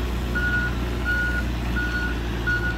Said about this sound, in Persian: الان لیفتراک ما از پایین و الان آزاد میشه و برمیگرده عقب